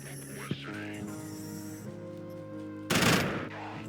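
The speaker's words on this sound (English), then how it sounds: "I say as I shoot my energy rifle." Energy rifle fire in the sci-fi game Quasimorph: a sharp shot near the start, then a loud burst of fire late in the clip over steady tonal game music.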